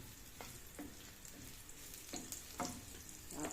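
Bitter gourd (ampalaya) sautéing in leftover hotdog oil in a small pan, a faint, steady sizzle broken by several short stirring scrapes.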